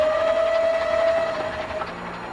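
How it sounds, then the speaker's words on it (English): A steam train running along the Somerset & Dorset line near Broadstone, with a sustained whistle tone over a rolling rail rumble that fades slightly as it carries on. "we can open the regulator to steam on"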